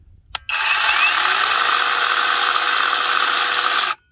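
After a short click, a small electric mini chainsaw on a Dewalt 20V battery, running without chain oil, whines at a steady high pitch for a few seconds, then cuts off abruptly.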